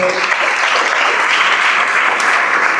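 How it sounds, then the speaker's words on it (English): Graduation-ceremony audience clapping as a top student is announced, a loud, continuous, evenly dense roar of many hands with no gaps. "Let's start clapping as I call the person."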